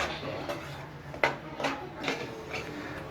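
A utensil stirs gram flour in ghee in a pan for besan laddu, producing a handful of sharp scraping clinks at an uneven rhythm against a low kitchen background.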